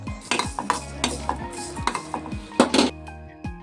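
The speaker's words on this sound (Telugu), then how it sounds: "కొంచెం ఎండు కొబ్బరి అయితే యాడ్ చేసుకొని కొంచెం దూరగా ఫ్రై చేసేసుకుందాం" Coriander seeds, mustard seeds, cumin and dry coconut being dry-roasted in a pan, with repeated sharp scraping stirs and clinks of a utensil against metal, close and rhythmic, with a light sizzle underneath.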